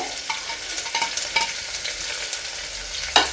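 Onions frying in a pan and being stirred, close up: a bright crackling sizzle overlaid with scraping and shuffling of a spoon, ending on a sharper clatter.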